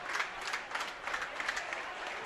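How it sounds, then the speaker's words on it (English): Applause from the Danish team contingent at a world championship team round, a moderately distant patter of many hands clapping with slight surges, steady throughout. "There you hear the applause"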